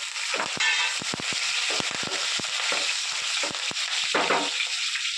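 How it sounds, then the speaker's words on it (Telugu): Green chillies fry in a pan with oil, giving a steady sizzle broken by frequent sharp crackles and pops, close and loud, with no talking. "ఫ్రై అయిన తర్వాత పచ్చిమిరపకాయలు వేసుకున్నామండి"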